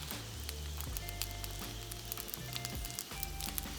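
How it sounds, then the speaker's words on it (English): Pork belly dumplings brown in an oiled pan, giving a continuous crackling sizzle with scattered pops and a steady low hum underneath. "we're gonna brown each side up the best we can"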